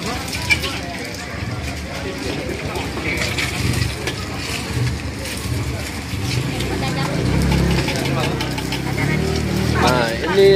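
Eggs frying sunny-side up in a pan at a Pontianak food stall, with a continuous sizzle and crackle over engine-like background rumble while people talk.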